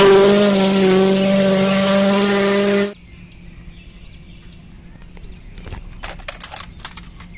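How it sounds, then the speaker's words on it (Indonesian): Toy race car giving a loud, steady, high-revving engine roar for about three seconds before cutting off abruptly, followed by quiet scattered clicks and taps. "Wow, lihat ada mobil balap."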